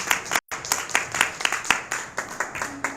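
Rhythmic hand clapping from a worship congregation, steady beats repeating roughly every third of a second, with a brief dropout near the start and some voices mixed underneath.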